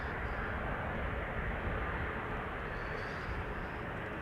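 A jet aircraft departing Amsterdam Schiphol Airport produces a steady, broad engine roar at moderate distance, continuous and unbroken.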